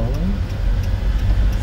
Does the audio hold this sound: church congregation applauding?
no